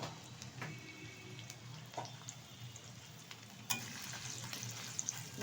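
Chopped carrots frying in hot ghee for paneer fried rice, a steady close sizzle with light stirring scrapes and a sharper clatter near the end, no talking.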